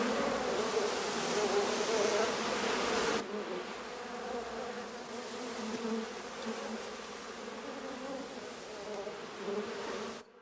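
Bees or wasps buzz steadily in a film scene, a dense continuous drone that drops slightly in level partway through and carries on without any speech.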